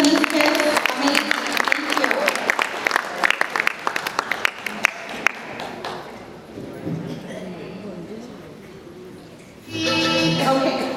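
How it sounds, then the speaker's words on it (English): Audience applause at a presidential closing ceremony, a loud burst of many hands clapping for several seconds that fades into murmuring before a voice speaks. "One more round of applause for these ladies and these kids."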